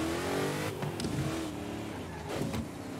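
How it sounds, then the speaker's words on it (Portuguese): Engine note of a Hot Wheels-style car in the Forza Horizon 5 racing game, a steady high-pitched drone that rises with revs, then dips and jumps at two brief gear changes, loud and close with no talk. "Dá pra até escutar a troca de marcha"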